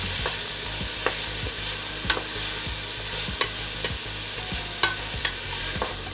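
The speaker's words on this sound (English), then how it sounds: "we're gonna saute everything" Vegetables sautéing in a pan for a homemade cream of vegetable soup, seasoned with salt and pepper: a steady broadband sizzle with repeated sharp scraping clicks of stirring, close and moderately loud, no talk.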